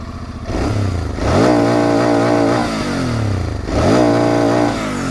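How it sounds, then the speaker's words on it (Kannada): A 2023 Bajaj Pulsar NS 200 motorcycle with its stock exhaust idles close by, then revs twice, each throttle blip climbing sharply and falling back to a loud, throaty idle. "ಇಂಜಿನ್ ಸೌಂಡೇ ಸಕ್ಕತ್ತಾಗಿ ಬರುತ್ತೆ"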